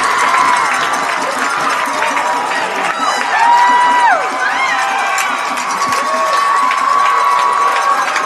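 Sideline crowd at a high school semifinal football game cheering loudly after a touchdown, a sustained roar with shrill shouts and whistles rising and falling throughout.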